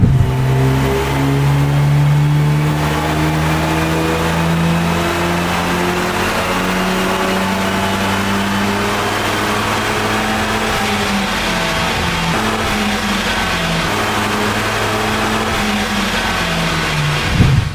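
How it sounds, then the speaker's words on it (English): A VW Golf MK8 GTI in stock form runs on a dyno, its engine climbing loudly and steadily through the revs in a long pull with rising tones, close and continuous, no voices. "So, a couple of runs on the dyno in stock form."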